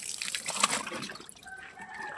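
Water pours steadily into a washing machine tub, a brief splashing rush early on that settles into a softer trickle and fill, close by and with no talk.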